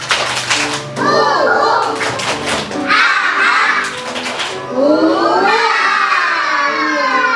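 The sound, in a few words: children's clapping chant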